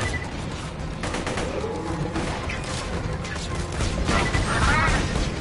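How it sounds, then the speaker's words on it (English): Enemies in Borderlands 2 VR open fire on the player, with a dense, sustained fusillade of gunshots and crashing impacts that rises in intensity toward the end, under faint talk. "now y'all want to start shooting at me?"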